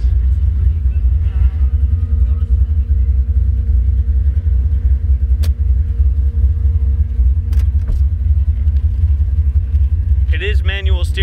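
The engine of a 1972 Chevrolet Nova Pro Street runs steadily with a deep, loud rumbling idle that holds unbroken throughout, close to the microphone, with a few faint higher chirps near the end.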